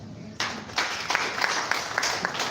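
Applause from a crowd at a local government inauguration starts abruptly and continues as a steady wash of clapping, moderately distant, with a few sharper individual claps standing out.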